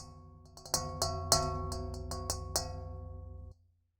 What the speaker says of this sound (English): the rubber tip mallet sounded like this.